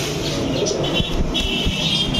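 Crested and racer pigeons at a crowded pigeon market, with soft cooing and chirps mixed into a dense, loud crowd and traffic din.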